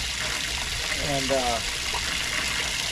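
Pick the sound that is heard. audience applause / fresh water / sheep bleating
fresh water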